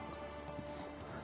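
Steady hoofbeats of a horse in the video game Kingdom Come: Deliverance 2 clip-clop at a trot over a constant background hum, moderately quiet with no talking.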